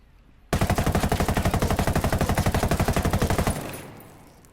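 A rifle fitted with a buttstock and grenade launcher fires fully automatic in Ghost Recon Wildlands, a loud, rapid, even burst of about three seconds that begins abruptly and ends in a fading echo.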